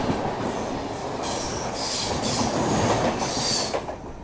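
A Garib Rath express train on the Saharsa–Amritsar line near Samastipur rushes past at high speed, a steady loud roar of wheels and wagons with clattering rail joints and brief metallic squeals, close by and with no voices.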